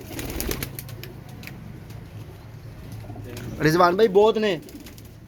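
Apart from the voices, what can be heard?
Rampuri pigeons cooing and flapping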